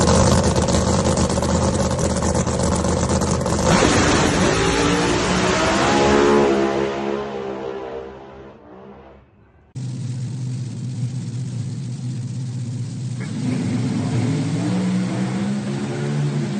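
A Pro Mod drag racing car roars loudly down the track, its engine note rising, then fading into the distance before a second loud, sustained engine roar begins abruptly.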